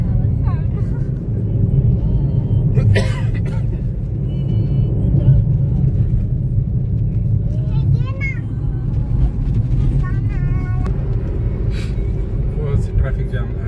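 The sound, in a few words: heavy road traffic jam on Pune-Nashik highway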